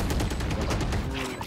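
Dense, overlapping bursts of automatic gunfire during a competitive collegiate Valorant esports match, loud and continuous, with rapid shots crowding together for the full moment.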